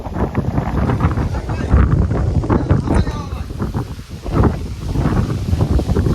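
Strong wind blowing at a cold outdoor spot, a loud, continuous roar that buffets the microphone and rises and falls in gusts, with a person talking throughout.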